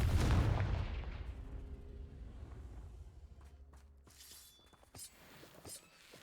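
A Confringo spell blast in the video game Hogwarts Legacy: one loud, booming explosive impact at the start that rolls off and fades, followed by faint scattered clicks and small pops.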